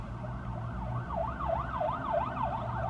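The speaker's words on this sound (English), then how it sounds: "that was an ambulance." An ambulance siren wails in a steady up-and-down sweep, moderately distant and sounding over low traffic rumble, with no one talking.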